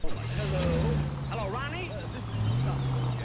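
A car driving in the video game L.A. Noire, its engine humming steadily with shifting pitch beneath someone talking throughout.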